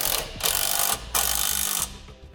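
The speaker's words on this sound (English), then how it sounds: "we'll use an 11/16 wrench and 5/8 socket" A ratchet socket wrench tightens a bolt while a base plate kit is installed on a 2015 Chevrolet. There are three quick bursts of rapid clicking, close and loud, with short pauses between them and no talk.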